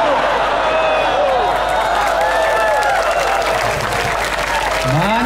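Audience in a mosque clapping during an Islamic sermon in Tarakan, a continuous loud wash of applause from many hands, with a few voices and murmurs mixed in.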